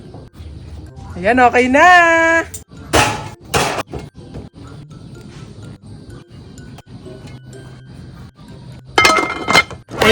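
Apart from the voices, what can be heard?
opening the lid of a pot of boiled corn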